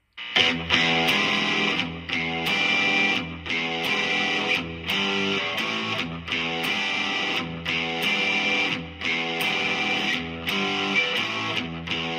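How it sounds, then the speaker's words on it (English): A distorted electric guitar plays an intro riff, chugging in repeated phrases with short breaks between, loud and up close. "Next up, we're going to try it with a little bit more distortion."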